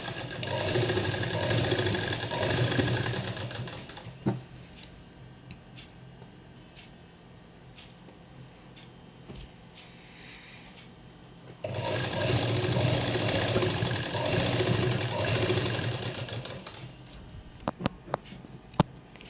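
A sewing machine stitches lace onto a dupatta in two long runs of steady, rapid mechanical whirring and ticking, separated by a quieter pause with small clicks.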